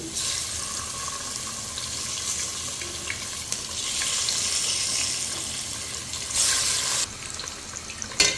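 Eggs frying in a pan while making khichdi, a continuous hissing sizzle with occasional stirring, swelling briefly louder near the end before a few clinks.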